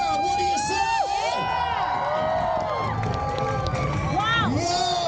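A crowd at the EX Games skate event cheers and whoops loudly and continuously, with rising and falling shouts and hollers layered over dense excited babble.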